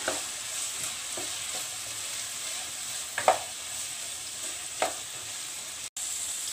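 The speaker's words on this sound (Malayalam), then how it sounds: "ഇനി ഇതൊന്ന് വഴറ്റിയെടുക്കാം" Vegetables sautéing in butter in a pan for vegetable noodles, a soft steady sizzle with a few brief stirring scrapes and clicks, fairly quiet and close, no talking.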